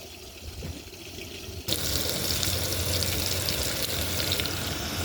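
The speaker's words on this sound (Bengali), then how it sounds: "মাছও ফ্রাই হয়ে গেছে, দেখি কিরকম হয়।" Fish fries in a pan, starting as a quiet sizzle that abruptly swells into a loud, steady, spattering hiss for the rest, close and without speech.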